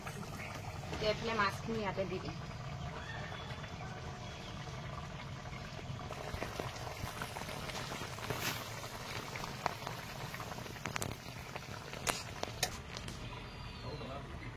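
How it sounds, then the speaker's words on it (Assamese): Sour fish curry with mashed potato simmers and bubbles steadily in a pot over a village cooking fire, a soft continuous burble beneath a voice speaking nearby. "এইফালে তৰকাৰী ধুনীয়াকৈ উতলি আছে।"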